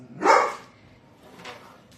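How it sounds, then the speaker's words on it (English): A dog gives one loud, close bark followed by a fainter, shorter yelp at a home while a delivery arrives, with nothing else sounding in between. "That's why he's barking."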